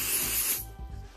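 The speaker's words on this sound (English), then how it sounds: "I'm gonna spray it again because it's already dried up a little bit" A spray bottle hisses in one strong burst, apparently dampening fabric in a hoop while socks are being embroidered. The hiss is close and loud, then cuts off, followed by a few soft handling knocks.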